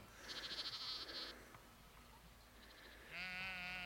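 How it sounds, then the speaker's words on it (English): A sheep with lambs bleating outdoors, two clear bleats separated by a pause, the second long and quavering, moderately near against faint background ambience. "How many lambs has she got round her there?"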